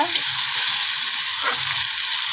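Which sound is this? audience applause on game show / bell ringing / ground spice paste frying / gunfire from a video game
ground spice paste frying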